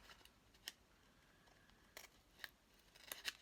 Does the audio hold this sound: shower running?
no